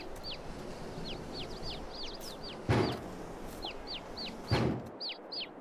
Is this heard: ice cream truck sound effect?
no